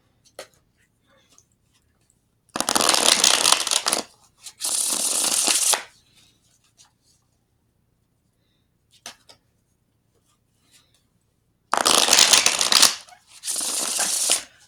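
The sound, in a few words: shuffling a personalized tarot card deck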